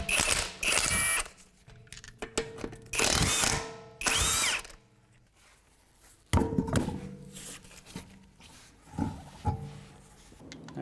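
Power tool with a 22 mm socket removing the front passenger wheel of a 2007-2013 Acura MDX: several loud, short whirring bursts separated by pauses, close by, with no talk.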